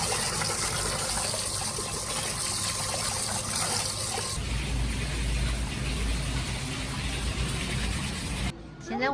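Whole large fish, bought for air-dried cured fish, are rinsed under running water, a continuous splashing gush and trickle close by that shifts character midway and cuts off near the end.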